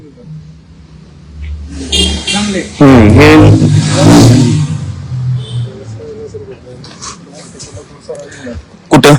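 A Kirloskar Min T 9 DLX power weeder engine runs on a farm, a steady mid-pitched chug that rises as it revs, partly under loud talk from nearby men.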